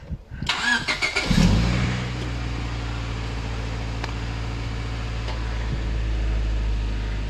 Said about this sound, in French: on va déjà faire un premier démarrage, voir si ça marche